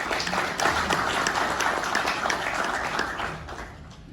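An audience at a formal gathering applauds Frank and Alison for an achievement. Many individual claps crackle at moderate volume, then taper off and fade near the end.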